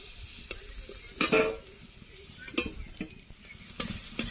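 Potatoes fry in a wok-style pan of oil with a little salt and turmeric powder, a soft steady sizzle broken by a few sharp spoon clinks and scrapes against the metal.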